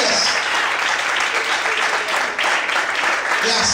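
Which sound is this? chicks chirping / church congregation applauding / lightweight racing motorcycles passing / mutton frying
church congregation applauding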